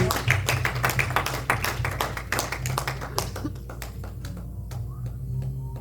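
Church congregation at Sunday praise and worship claps together in acclamation for Jesus, a rapid run of sharp claps that thins out toward the end over a low hum.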